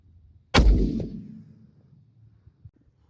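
A single .270 Winchester rifle shot with a 130-grain bullet cracks sharply at an outdoor range, followed by a booming, rumbling echo that fades over about a second.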